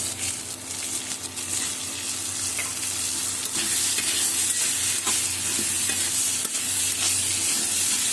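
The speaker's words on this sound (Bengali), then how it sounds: "টমেটো দিয়ে শিমের বিচিগুলো ভালো করে কষিয়ে নিচ্ছি" Bean seeds fry with tomato in a pan and are stirred hard, giving a constant, close sizzle with spoon scrapes and spatters all through. There is no voice.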